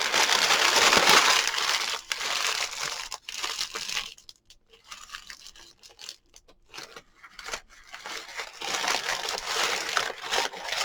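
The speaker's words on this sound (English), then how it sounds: "What we're going to do is scrunch it up." Close, loud crackling and crinkling as faux leather is scrunched up, surging in dense bursts, easing into quieter rustles midway, then building again.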